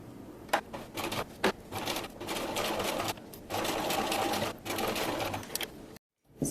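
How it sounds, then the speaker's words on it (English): A sewing machine stitches down the side of a small circular zipper pouch, a close, steady mechanical whirr in several bursts of running separated by brief pauses, ending in a short silence. "Now I'm going to sew down along this side just like I did on the other side."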